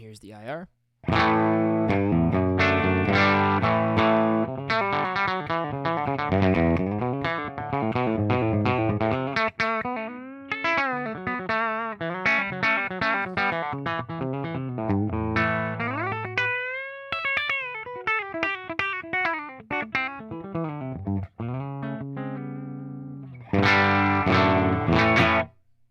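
Through a Line 6 Helix Princess amp model with an impulse-response cab, an electric guitar plays a long run of picked notes, bends and chords with a warm, slightly driven tone, close and steady throughout.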